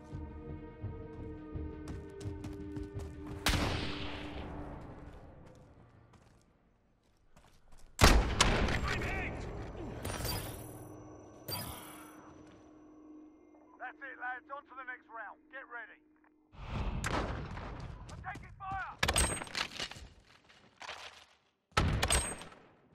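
Gunfire in Call of Duty: Modern Warfare during a 2v2 match, bursts of shots and heavy thuds scattered among game music and effects, with a player talking over parts of it.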